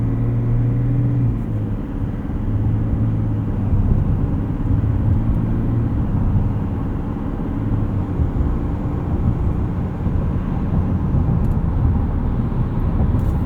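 A 2026 GMC Sierra 1500 Denali with the Duramax diesel cruises on adaptive cruise control, giving a steady, low in-cabin rumble of engine and road noise that holds even throughout, with no talking.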